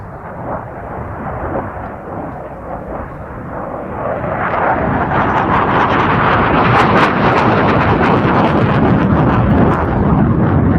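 A Polish MiG-29 fighter jet flies a maneuverability display at RIAT 2015, its loud jet roar building steadily over several seconds, with wind buffeting the microphone.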